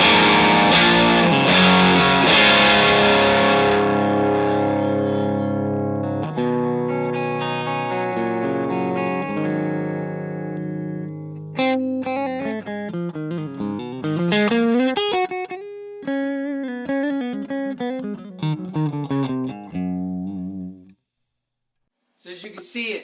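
Overdriven electric guitar through a Shaw Audio Tonerod MG tube amp head rings out in loud sustained chords, then shifts to shorter choppy notes and bends before a brief drop to silence near the end.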